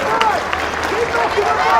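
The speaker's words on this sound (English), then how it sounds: "the crowd are clapping here, and I'm not surprised" A rugby crowd applauds at a Scotland U20 versus Japan U20 World Rugby U20 Trophy match, with steady distant clapping under a commentator talking over it.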